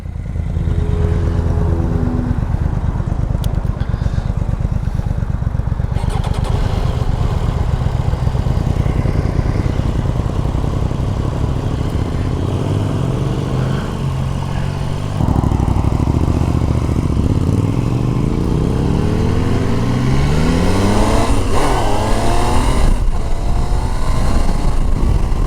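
A Triumph Tiger 800 adventure motorcycle with an 800 cc triple engine, ridden on a demo ride, revs up through several gears, its raspy engine note climbing in pitch repeatedly, loud and close with rushing wind throughout.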